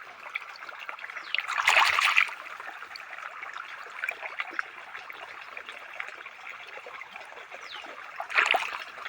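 A guava is washed under running water, with a soft continuous trickle and two louder gushing splashes close to the microphone, one early and one near the end, with no talking.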